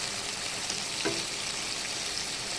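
Fried hilsa fish goes into a pan of cooked eggplant and fries, a steady close sizzle with one brief clink of a utensil partway through, and no talking.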